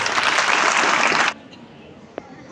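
At a college annual function, an audience claps loudly for student performers in a thick, steady burst that cuts off abruptly partway through, leaving quiet with a single faint knock afterward.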